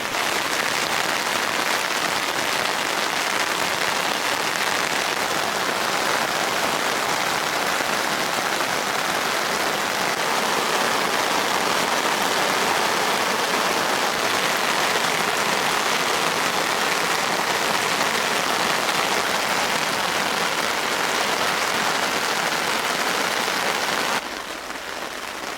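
Heavy rain pours steadily at a mountain campsite in Atok, Benguet, a dense, unbroken roar of drops on surfaces that stays loud throughout with no talking.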